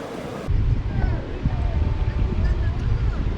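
Sea water washing up the beach on the Argentine coast, a steady low rushing wash with wind buffeting the microphone throughout, close and fairly loud.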